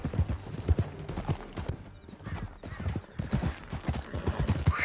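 Horse hooves galloping at speed across a canyon in Red Dead Redemption 2, a rapid, uneven clatter up close with a brief whinny, no talking.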